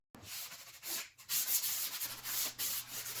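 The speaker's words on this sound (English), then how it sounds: "So it's back to the shop again for some final touch-up sanding, and then the fronts are ready to stain and finish." Alder wood vanity fronts being hand sanded with sandpaper in a shop, close rhythmic rubbing strokes in bursts with short pauses between.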